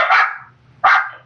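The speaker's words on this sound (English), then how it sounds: "I really hope that's a chihuahua." A small chihuahua gives two sharp, loud barks about a second apart, close and clear, with no talking over it.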